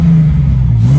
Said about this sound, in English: やっぱりこの車の音がいいよね